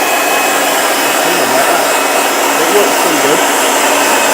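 An air blower fitted with a focusing nozzle sends a steady, loud hiss of air across model locomotives to clear dust, running continuously with someone speaking briefly over it.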